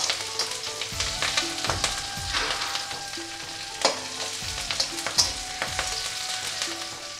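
Green chillies fry with onions in a pan, giving a steady crackling sizzle broken by frequent scraping stirs and a few sharper pops. Close and fairly loud throughout, with a faint tonal hum behind and no talking.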